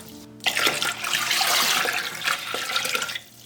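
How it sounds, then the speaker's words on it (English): Water pours steadily from a tap into a pot holding a glass jar for tomato sauce, a continuous close splashing and gurgling that starts abruptly and runs for about three seconds before cutting off. "And the water put all the way up."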